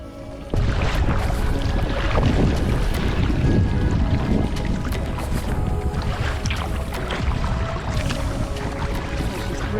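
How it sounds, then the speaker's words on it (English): A kayak moves across choppy water on Myall Lakes. Water slaps and splashes against the hull with wind buffeting the microphone. The sound is close and steady after a quiet first half second. "It's pretty bloody choppy out here and we're getting broadsided."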